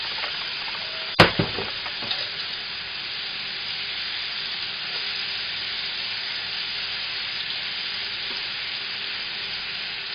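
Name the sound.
moose meat with dry rub browning in a pot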